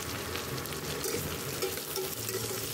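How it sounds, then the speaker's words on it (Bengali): Chopped onions frying in a pan for eggplant bharta, a continuous low sizzle and crackle, fairly quiet and steady with faint stirring movement. "পেঁয়াজ কুচো দিয়ে ভালো করে সেটিকে ভাজবো লাল করে একদম"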